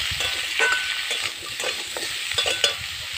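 Aloo posto stirred and frying in a pan over a wood-fired stove, with steady sizzling and intermittent scraping stirs close by and no voices.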